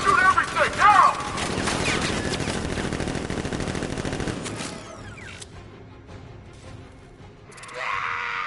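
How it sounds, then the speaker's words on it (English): Guards in Batman: Arkham Knight open fire with a loud, continuous fusillade of automatic gunshots for several seconds, then the barrage drops away to quieter mechanical and ambient game sounds before a brief swell near the end. "Guards! Open fire! Shoot everything, now!"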